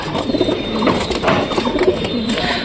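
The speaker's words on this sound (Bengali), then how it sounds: "এখানে বসে আছে কবুতর, এরও ডিম ফোটেনি" Nesting pigeons coo softly and repeatedly nearby, low burbling calls overlapping against faint background noise.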